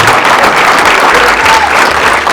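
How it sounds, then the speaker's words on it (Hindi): Loud, dense applause from students after a film screening, a continuous burst of clapping filling the whole short stretch with no speech over it. "एक बार जोरदार तालियां तुम लोगों के लिए।"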